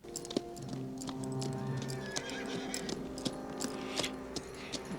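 A horse clip-clops along in the western film Pale Rider (1985), its steady hoofbeats mixed with a whinny, jingling tack and a soft musical score.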